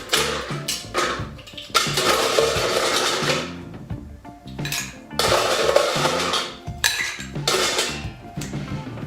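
Ice goes into an Au Pear cocktail in a mixing glass or shaker, a close, loud rush of clattering and clinking cubes in two main bursts.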